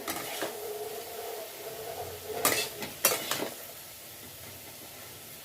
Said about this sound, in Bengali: বেশি ফ্রাইয়ের দরকার নেই, অল্প হলেই হয়ে যাবে।